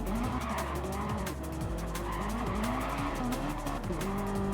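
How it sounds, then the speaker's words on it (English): A Gran Turismo race car understeers into gravel, its engine howling continuously with rising and falling revs while tyres squeal and scrub loudly throughout, under a steady crowd-like roar with no talk. "he understeers into the gravel"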